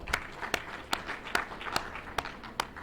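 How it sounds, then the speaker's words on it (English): Sparse, faint applause for a speaker at a formal university occasion, a handful of distinct individual claps spaced out over a quiet hall rather than a full ovation. "Ladies and gentlemen, another round of applause for him."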